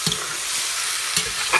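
A spoon stirs pork steak and sausage simmering in tomato gravy in a pot, giving two short scraping strokes over a steady soft sizzle, close by and without talk.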